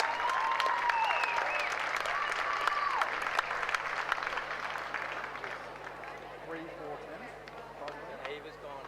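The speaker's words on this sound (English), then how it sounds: "Ladies and gentlemen, another big round of applause for Bella Scull." A crowd applauds at a schoolgirl rowing regatta on the river, with sustained clapping that slowly fades while someone speaks over a loudspeaker.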